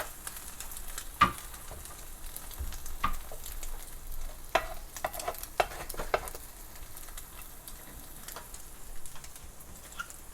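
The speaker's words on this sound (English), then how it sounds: "you can hear the sizzle of the egg getting cooked." Egg-soaked bread for French toast sizzles and crackles steadily in a pan, with occasional sharp pops and ticks, continuous and fairly quiet with no talking.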